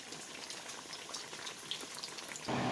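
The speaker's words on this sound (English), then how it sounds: "Coated them with the batter and deep fried them." Tempeh slices coated in batter deep frying in hot oil, a steady dense bubbling hiss throughout that swells louder near the end.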